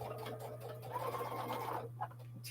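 Sewing machine stitching rows of a quilt block through bulky seams, a steady continuous mechanical whir at moderate level over a low constant hum, with no talking.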